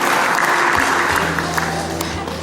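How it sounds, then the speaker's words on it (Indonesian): Applause from an audience at a regional military command anniversary ceremony in Gorontalo: a steady, dense wash of clapping that fills the whole stretch at fairly loud level, with a faint hum of voices underneath. "Ini tepuk tangan sangat luar biasa."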